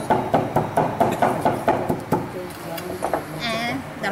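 A steady run of hammer blows, about two per second, pounding fibers to damage them, thudding near and loud, with voices talking over them before the strikes fade out.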